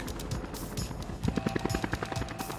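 Rapid rhythmic chopping of helicopter rotor blades over polar bear country, moderately loud and steady throughout, with a rattling mechanical texture.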